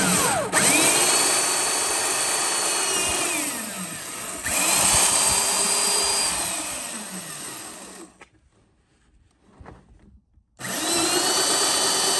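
Power drill boring a 1 1/8 inch hole through a plastic cooler for a boat livewell aerator, loud whine with pitch dropping and rising as the bit bites, a pause, then drilling resumes.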